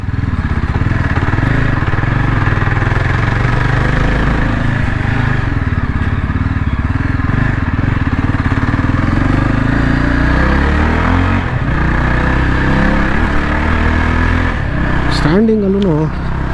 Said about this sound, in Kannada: ಸೊ ಇದು 335cc ಇಂಜಿನ್ನು.